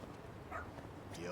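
A dog in the Lost Judgment video game gives a couple of brief, faint yips and a whimpering bark, quiet and low in the mix.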